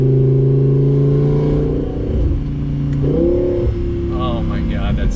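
A 2018 Audi R8 V10 Plus Spyder engine revs loudly up and down at close range, with strong sustained engine tones, and a voice is heard near the end.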